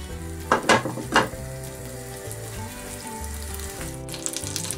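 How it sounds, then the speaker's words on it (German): Steady sizzling of butter in a hot frying pan, with a few louder clatters early on and a bright crackle near the end. "Dafür mache ich dann auch noch mal so ein bisschen Butter in der Pfanne warm."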